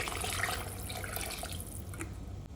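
Cold water, about 1.5 litres, pours steadily and close into a pot, a continuous splashing rush that thins out toward the end, no voices.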